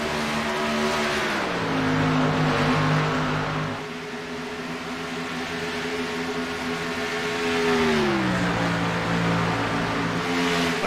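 Race cars circle the Texas oval in the iRacing sim, a close, steady engine drone that sweeps down and back up in pitch as the pack passes through the corners, with no talk over it.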